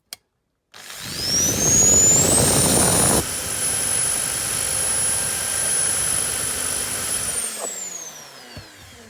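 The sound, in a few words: Dremel rotary tool grinding a die-cast model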